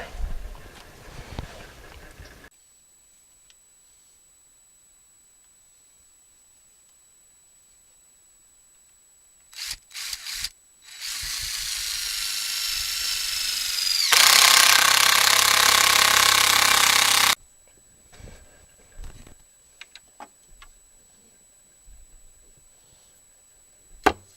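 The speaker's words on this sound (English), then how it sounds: "Putting these stainless steel screws in" A power drill drives stainless steel screws into a garden gate being repaired after hurricane damage, with a loud sustained whir lasting several seconds, broken by short bursts and quiet gaps.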